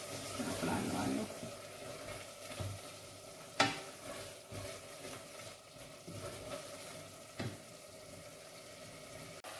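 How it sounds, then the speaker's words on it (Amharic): Onions frying in oil with berbere for Ethiopian potato stew, a soft sizzle under repeated stirring, with a few sharp clinks of utensil on pan and faint talk in the background. "ሽንኩርቱና ዘይቱን አብሬ ከበርበሬ ጋር እንደዚህ ከጠበስኩት በኋላ"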